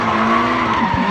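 A drift car skids through a lap at a drifting event, a steady loud tyre and engine roar with a sustained skidding tone, close and continuous, with a brief dip near the end.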